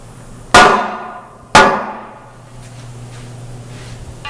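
Two sharp, loud hammer strikes about a second apart land on a McLaren wheel being prepped for powder coating, each ringing out and decaying over a low steady hum.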